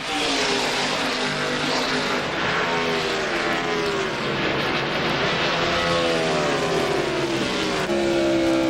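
NASCAR Winston Cup stock cars racing at the 1999 Checker Auto Parts Dura Lube 500, a loud continuous engine roar with rising and falling pitch as the cars come off a corner and pass close by.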